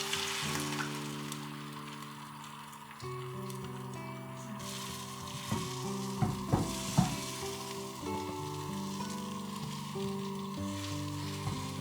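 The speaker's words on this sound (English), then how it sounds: "beat and pan fry the eggs" Beaten eggs pan frying for Sarawak laksa, a soft continuous sizzle with a few brief clinks and scrapes in the middle, fairly quiet and close, with background music and no talk.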